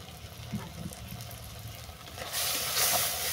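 Turmeric and spices sautéing with taro leaves in a hot pan: a close, continuous sizzle with stirring that swells into a louder, brighter frying hiss near the end, with no talking.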